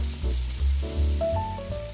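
Pork belly and dakgalbi chicken sizzle on a hot griddle, a crackling hiss under low rumbling and clattering of stirring with vegetables, with a few faint tonal squeaks.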